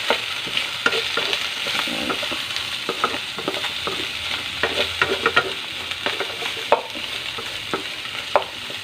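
Adobong puti, adobo cooked without soy sauce, sizzles and fries in a pan as it browns, with a steady hiss and frequent sharp stirring scrapes and taps of a utensil, close and fairly loud, no talking.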